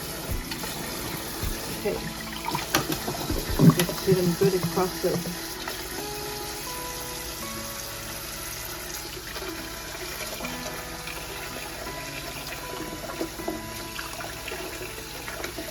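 Tap water runs steadily into a sink while freshly boiled eggs are peeled for potato salad, a broad continuous hiss with brief clatter and splashing early on, a person speaking briefly over it.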